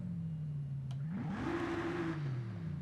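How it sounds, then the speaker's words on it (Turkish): A car engine in the video game Forza Horizon hums at a steady idle, then revs up to a higher pitch and holds there, fairly quiet with no talking. "Hemen bir sesini dinleyelim arabanın bir kere daha."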